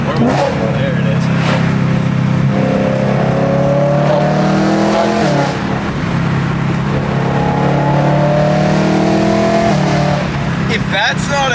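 Loud, close BMW E9x M3 S65 V8 accelerating hard through several gear changes, each pull rising sharply in pitch before dropping at the shift, with a final burst near the end.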